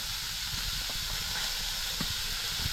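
Onion roasting in a little oil in a pan for a Konkan potato curry, a steady faint hiss of frying with a few soft clicks of a utensil, no talking.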